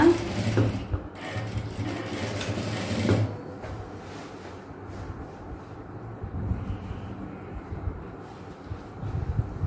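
A sewing machine runs steadily while stitching two layers of silk main cloth and two of lining together, a continuous close mechanical whir that is louder in the first few seconds and softer afterwards.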